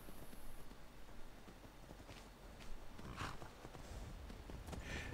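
Horse hooves clip-clopping steadily in Skyrim as a rider pushes the mount at full speed, a continuous rhythmic patter mixed with game ambience at moderate loudness.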